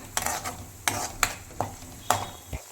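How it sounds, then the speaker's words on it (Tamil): Ground tomato goes into a pan for fish curry, with quiet sizzling and several sharp clinks of a spoon stirring against the pan, close but faint. "அதுக்கப்புறம் தக்காளி அரைச்சி வச்ச தக்காளி ஊற்றிக்கோங்க."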